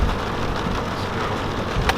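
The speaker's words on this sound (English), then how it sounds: "It is pouring rain." Heavy rain from a big rainstorm pours down at an outdoor fishing spot, a dense, loud, continuous hiss with no speech.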